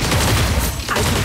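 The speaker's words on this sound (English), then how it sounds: "Oh no! Shots heard." Gunfire in an Android battle royale looter-shooter game: a dense, continuous fusillade of shots with low booms, loud and close, filling the whole moment with a brief dip near the end.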